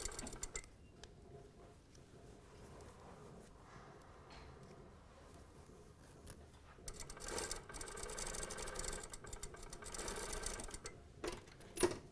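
A domestic sewing machine runs in short, quiet bursts while stitching a jacket lining along the facing and piping, with pauses and soft handling noises between runs; no talk.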